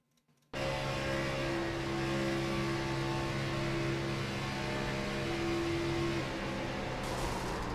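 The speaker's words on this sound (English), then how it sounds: "the engine went on that car" Race car engine failing on track at Talladega Superspeedway in a sim racing game, a sudden loud droning engine tone with a steady whine that cuts in abruptly and holds for several seconds.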